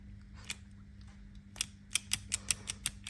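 Cheap ratchet tool on a Fiesta ST driveshaft job, its teeth slipping in a rapid run of sharp metallic clicks, a few scattered at first, then a quick burst of about eight, close and fairly quiet.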